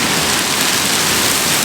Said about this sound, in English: now we're getting some hail